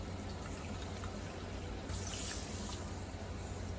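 Water from a handheld shower head runs steadily over a client's scalp during a scalp-scaling shampoo treatment, a close, soft continuous splashing and trickling with a brief louder gush midway.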